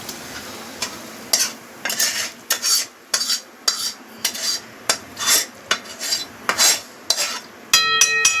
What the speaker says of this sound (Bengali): হয়ে গেছে বলে আমি একটা বড় কড়াইতে তরকারিটা ট্রান্সফার করে নিচ্ছি।